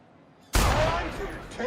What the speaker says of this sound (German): Das sind so Testschüsse. Schüsse.